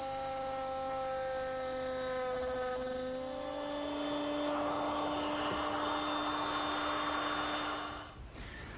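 A router spins a bit through a mesquite post to cut a mortise, giving a steady loud high whine whose pitch drops as the bit bites into the wood. The tone holds for several seconds, then cuts off near the end.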